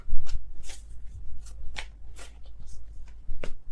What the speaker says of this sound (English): I feel like these are all sloppy shuffles.